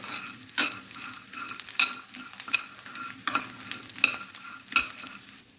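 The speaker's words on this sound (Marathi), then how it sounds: "डिंक मी तुपात मस्त फ्राय करून घेतलेला आहे तर मस्त फुलला आहे" Edible gum (dink) frying and puffing up in ghee, with repeated sharp stirring strokes against the pan over a soft sizzle, each stroke a crisp burst in an uneven rhythm.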